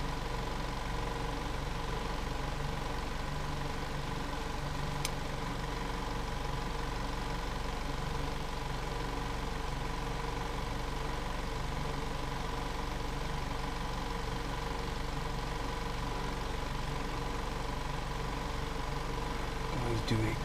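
2014 Volkswagen Jetta 2.0L engine idling with a cylinder 2 misfire from a leaky fuel injector, a steady close hum with a faint uneven pulse running throughout, one brief tick near the middle.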